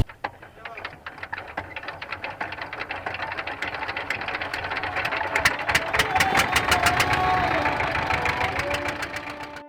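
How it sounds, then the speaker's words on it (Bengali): A boat engine roars on a fast-flowing river near the char islands of the India–Bangladesh border. The mechanical drone is steady and near, building louder and rougher over the middle of the clip with rhythmic knocking pulses. "নৌকার ইঞ্জিনের গর্জনের সঙ্গে শুরু হলো আমাদের যাত্রা।"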